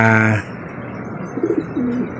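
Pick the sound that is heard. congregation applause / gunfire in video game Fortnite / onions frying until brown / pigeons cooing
pigeons cooing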